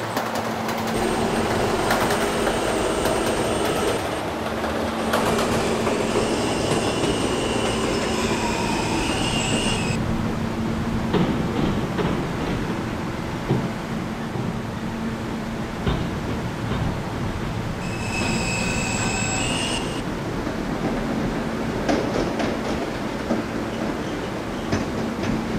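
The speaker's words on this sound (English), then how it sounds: "This is a West Baton bound K train." An R160 subway car on the K train rolls along steadily with a loud, continuous rumble, recurring high-pitched wheel squeals and clickety-clack over the rails, with no talk.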